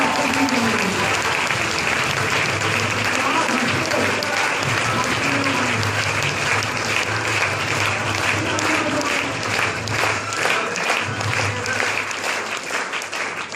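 An audience at a group testimony event claps steadily, a dense and fairly loud wash of many hands that runs the whole stretch, with faint voices underneath and the clapping thinning slightly near the end.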